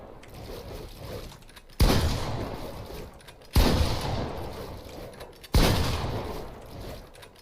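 Three spaced gunshots ring out in a Fortnite aim trainer map, each a sharp loud crack that decays into a lingering tail, with quiet room noise between shots.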